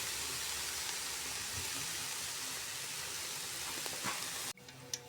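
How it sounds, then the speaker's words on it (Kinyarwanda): Rice frying in oil in a pot, a steady close hiss of sizzling that runs unbroken, then cuts off sharply near the end, leaving a quieter background with a brief click. "tukaranga umuceri."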